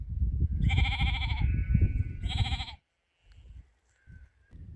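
Sheep in a field near an Iron Age hill fort give two loud, close bleats one after the other, then fall quiet apart from faint wind rumble and a distant, softer bleat.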